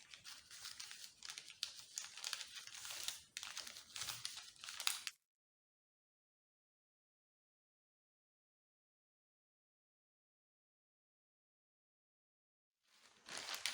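Sewing pattern paper being folded gives about five seconds of close, steady crinkling and rustling, followed by a long stretch of silence and a brief return of paper noise at the very end.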